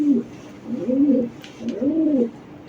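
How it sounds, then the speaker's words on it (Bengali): A racing pigeon coos close by in two rolling, throaty phrases separated by a short pause, with no voices over it. "মাশাআল্লাহ কবুতর"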